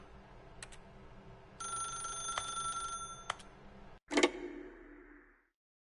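A telephone rings in the video game Bloodborne, a couple of bright, fairly quiet ringing bursts over a low ambient hum before a sharp clack as it is picked up.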